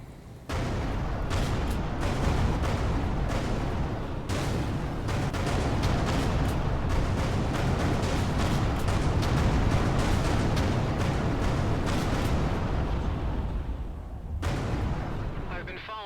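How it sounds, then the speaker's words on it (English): A large explosion in the space game Everspace 2: a sustained roaring, rumbling blast that holds steady for many seconds with crackling bursts on top, moderately loud throughout. "Explosion imminent."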